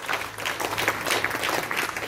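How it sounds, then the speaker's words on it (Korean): A church congregation gives a short burst of warm applause in encouragement, many hands clapping densely and evenly at moderate volume. "우리 격려 박수 한번 해주실까요?"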